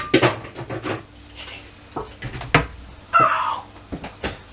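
A bowl is pulled out from among other dishes in a kitchen, with several sharp clinks and knocks of crockery in an irregular sequence, close by.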